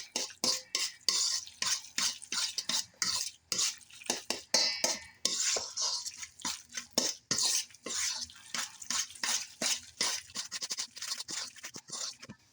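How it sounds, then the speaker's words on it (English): A cheeseburger stuffed mushroom filling with parsley is mixed together in a bowl, a close series of quick, scraping, squelching strokes in an uneven rhythm, with utensil clicks against the dish. "Okay, so I'm going to give this all a mix. Get everything nice and mixed together."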